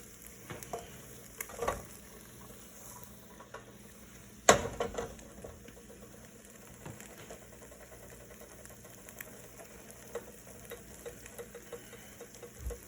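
An egg frying in a pan during burger making, a soft continuous sizzle with a few spatula clinks and one sharp clack, no voices.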